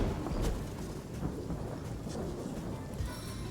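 The Thunder Jump spell in Divinity: Original Sin sets off a loud, rolling thunder rumble with crackling, rain-like noise on top, continuous and close throughout.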